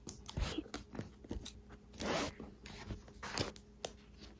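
Scissors or a blade cut through the sticker seal on a Nintendo Switch OLED box, faint close-up snips, scrapes and crinkly rasps in short bursts.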